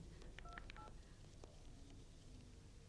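Beeping mobile phone dialing tones in a Pakistani comedy drama, several short keypad beeps in a quick burst, then one more after a pause, faint over a low background hum.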